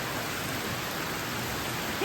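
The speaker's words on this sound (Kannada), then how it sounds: "ಮಳೆ ಬಂತ್ರಿ" Steady rain falls near Betne Falls, a continuous even hiss of moderate loudness with no pauses and no voices.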